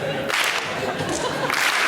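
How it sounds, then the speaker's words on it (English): Audience at a school alumni show clapping along to a beat, dense rhythmic claps and crowd noise filling the short moment, fairly loud and close. "Can everybody give me a clap too?"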